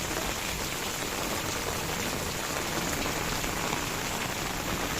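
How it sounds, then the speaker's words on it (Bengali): Steady, dense rain pours down on the leaves of Malabar spinach plants in a rooftop garden, a constant close hiss of drops with no pauses and no voices. "ঝড় বৃষ্টি পড়তেছে।"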